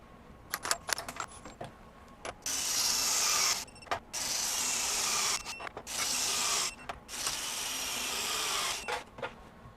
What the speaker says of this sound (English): Let's get these torqued back again.